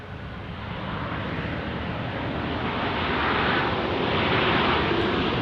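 A Texas 1 airplane takes off from runway 13 right at Dallas Love Field, a steady broad engine roar that builds gradually and stays loud throughout, with some wind noise and no talk.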